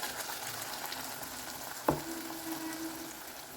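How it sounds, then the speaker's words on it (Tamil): Ground carrot and milk paste frying in ghee in a kadai, a soft steady sizzle with one sharp clatter partway through and a faint hum after it, no talking. "இப்போ வந்து நம்ம இந்த அரைச்சதை கடாயில் போட்டுக்கலாம்"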